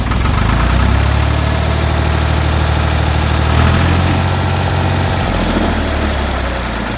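A Ford 2000 tractor engine idles loud and close with a steady low rumble while its generator charges, and the tone shifts slightly midway as the load changes.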